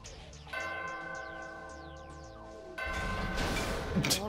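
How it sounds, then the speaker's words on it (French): A bell rung in the video game Danganronpa Ultra Despair Girls rings out with sustained, bright tones that hold steady, then give way to a louder, noisier burst of game sound near the end. "Alors, je vais faire sonner la cloche."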